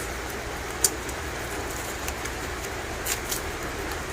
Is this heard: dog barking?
no